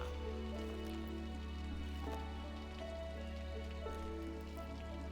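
Rain falling in the video game Against the Storm, a soft steady patter of drops over low, constant game ambience and music tones, fairly quiet and without speech.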